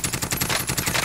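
Automatic gunfire in the video game Warzone, a rapid, evenly spaced burst of shots repeating steadily and loudly throughout the moment.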